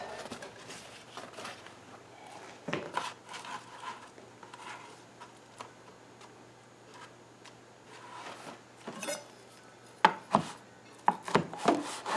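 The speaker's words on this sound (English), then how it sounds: "Chop this up." Broccoli is chopped on a board in a run of sharp knife strikes, irregular at first and then quicker and louder near the end, over a low steady hum.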